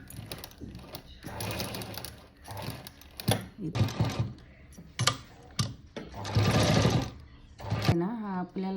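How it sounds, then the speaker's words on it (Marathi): A sewing machine stitching a cut-work blouse runs in loud rapid bursts with short pauses between runs, close by, while someone talks over and between the stitching. "टिप थोडी बारीक ठेवायची आणि जसं वळण आहे तसंच शिवायचं"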